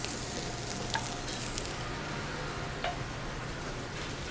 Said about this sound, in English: So you can see the nice sear I have going on the salmon right now.